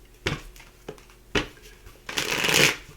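Tarot cards being shuffled by hand, with several short riffling bursts followed by a longer, louder shuffle near the end, close and crisp with no talk.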